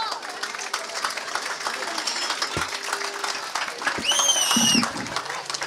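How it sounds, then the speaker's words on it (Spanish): Audience applause at a community testimonial gathering, a moderate spread of clapping across the room with scattered voices and a brief whistle-like tone near the end. "pido un fuerte aplauso"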